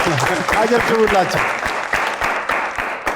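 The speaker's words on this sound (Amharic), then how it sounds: "አጨብጭቡላቸው" Applause from an audience at a lively festive holiday game show, a burst of dense clapping over a crowd murmur and a voice, tapering off toward the end.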